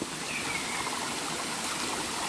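A cold mountain stream flows on a hiking trail, a steady, dense rush and trickle of water heard close by and unbroken throughout, with no voices.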